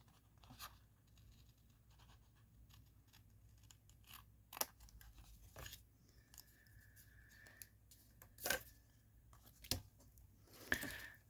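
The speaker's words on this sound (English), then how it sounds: "instead of the paper trimmer, I'm just going to use the scissors." Scissors cutting card paper at a crafting table, a series of quiet, sparse snips and crisp cuts spaced irregularly, with a faint brief tone partway through and no talking.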